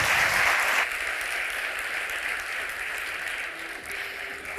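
Audience applause at a conference fills the room, a dense steady clapping that stays loud for the first second then continues slightly softer and even, with no talk over it.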